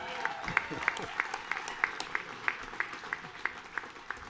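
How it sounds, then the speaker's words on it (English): A small group applauds a Hall of Fame college basketball head coach, with steady, evenly spaced distinct claps and a hum beneath them, fairly faint and close. "A big round of applause for the Hall of Fame head coach, Leonard Hamilton, everybody."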